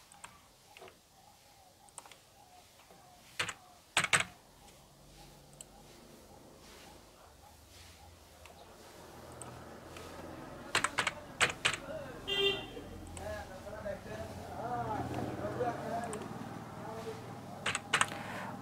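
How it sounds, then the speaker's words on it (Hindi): Sparse keystrokes on a computer keyboard tick out in small clusters, quiet and close, with denser clicking later, while someone talks over them at low level. "मैं टाइपिंग करके आगे बताता हूँ कैसे क्या करना है।"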